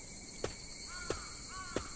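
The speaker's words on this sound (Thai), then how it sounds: "มีแต่เสียงนกร้องเสียงอะไรร้องเต็มไปหมดเลย" In the Urayama video game, a night ambience of constant high cricket and insect buzzing is broken by three spaced crow caws, with faint bird chirps between them, all soft and distant.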